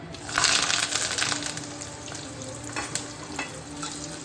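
Shallots, garlic and curry leaves sauté in hot oil for a vathal kuzhambu, giving a steady close sizzle that swells early and then settles, with a few faint clinks of a spoon against the pan.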